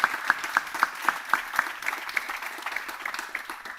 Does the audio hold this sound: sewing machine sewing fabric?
no